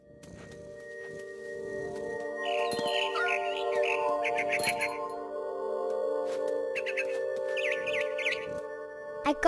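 Birds chirp and tweet in short bursts through a What Remains of Edith Finch video game scene, over a steady tonal musical drone, fairly close and moderately loud.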